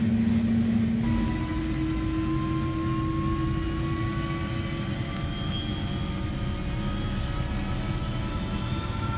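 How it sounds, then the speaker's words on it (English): Helicopter on a tour near Juneau, Alaska, heard as a steady, close turbine whine over a dense rotor rumble, with a tone rising gradually as it runs, alone without talk. "Tony, you going in a chopper"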